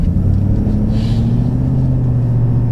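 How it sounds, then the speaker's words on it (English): Ford 6.7 Powerstroke diesel truck accelerating under firm throttle, a loud, close engine rumble with a rising drone that drops smoothly as the tuned transmission shifts gears, no talking. "I will be a little firmer on the gas pedal and it will shift like butter."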